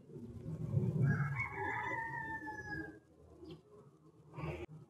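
A rooster crows once in a drawn-out, rising and falling call, fairly faint and somewhat distant, followed by quieter background noise and a brief knock at the end.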